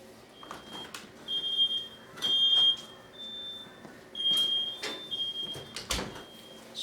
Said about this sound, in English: Smoke alarm next door.